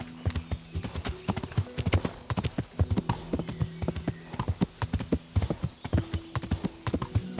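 A ridden horse's hooves clop in a quick, regular trot in Kingdom Come: Deliverance, with loud, close hoofbeats continuing throughout and a light ambient hum behind them.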